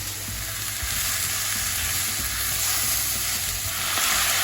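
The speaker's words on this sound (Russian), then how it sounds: "Кладу их в сковородку и тоже обжариваю вместе с луком и с грибами." Broccoli frying in a pan with onion and mushrooms, a dense continuous sizzle, close and steady, with faint stirring scrapes and no voices.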